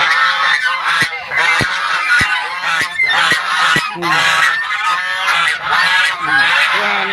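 A flock of geese honks loudly and continuously nearby, with overlapping calls and a few sharp knocks.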